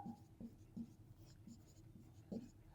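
Pen writing out a math solution on paper, a quiet series of short scratchy strokes in an uneven rhythm, close and soft.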